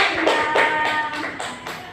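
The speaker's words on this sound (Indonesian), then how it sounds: "Berikan tepuk tangan semuanya." A class clapping hands in loose rhythmic bursts, several claps spaced about a third of a second apart, close and moderately loud, with a faint voice tone underneath.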